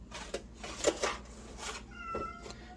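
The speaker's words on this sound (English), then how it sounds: "Oh my goodness, the whiny cat." A whiny cat meows several times at moderate distance in a home kitchen, plaintive cries recurring over a quiet background with faint tonal noise.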